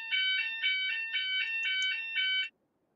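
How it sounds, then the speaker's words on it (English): Fire alarm sounding, a loud electronic warble pulsing in repeated bursts about twice a second, then cutting off abruptly into quiet. "Apologies for the fire alarm."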